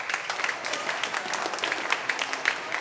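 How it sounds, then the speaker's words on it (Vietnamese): Church congregation applauding during a Vietnamese-language Nativity Mass, a brief burst of scattered, crisp hand claps at moderate distance. "Chúng ta làm tràng pháo tay cho chị Chi và những người làm hoa"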